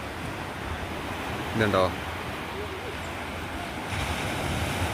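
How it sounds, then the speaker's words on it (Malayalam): Sea waves wash against the rocky shore at Thalassery harbour, a steady hiss of surf mixed with wind noise on the microphone, while a voice speaks briefly. "ഇതാ കടൽ കണ്ടോ, വിശാലമായ."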